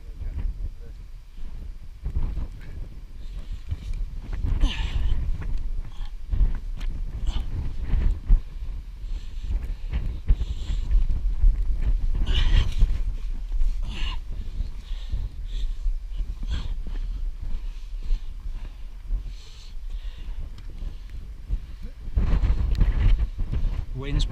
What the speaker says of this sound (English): Wind's picking up now, Walsh.